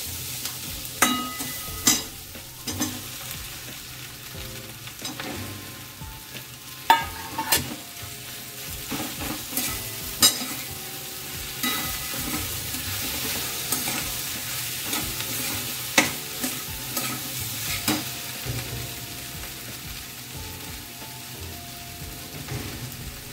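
Potato pieces sizzle and fry in oil in a home kitchen pan while being stirred, with steady crackling and repeated scraping clinks of a spoon throughout.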